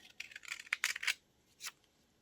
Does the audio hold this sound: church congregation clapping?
no